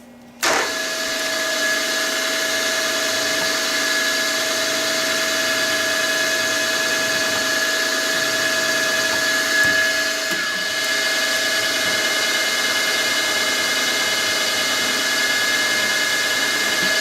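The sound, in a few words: spotting drill drilling metal on a lathe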